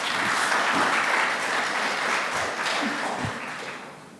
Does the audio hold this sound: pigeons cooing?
no